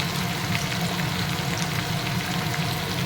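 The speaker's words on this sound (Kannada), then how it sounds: "ಒಂದು ಸ್ವಲ್ಪ ಶುಂಠಿದು ಹಸಿ ವಾಸನೆ ಹೋಗೋಷ್ಟಕ್ಕೆ ಫ್ರೈ ಮಾಡ್ಕೊಳ್ಳೋಣ." Chopped green chili and ginger frying in a hot pan for vegetable fried rice, giving a steady, dense sizzle with fine crackling throughout, close and even, with no voices.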